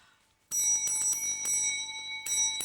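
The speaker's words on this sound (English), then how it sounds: "That there bell rung by itself." A small shop bell rings by itself after a quiet moment, a bright metallic jingle that starts suddenly and repeats in several quick shakes, close and loud, with ringing tones lingering between strikes.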